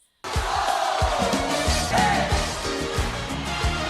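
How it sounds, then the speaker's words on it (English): Huge concert crowd cheering and roaring in the Astrodome, a dense, loud, continuous wash of voices that starts abruptly and holds steady, with some music and effects faintly underneath. "We were not prepared for a crowd this big."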